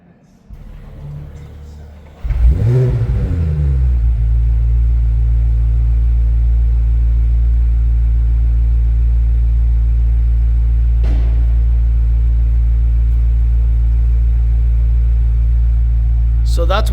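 A 2026 BMW M5 V8 engine cranks and fires after a brief quiet stretch, then settles into a loud, steady, deep idle rumble that continues to the end.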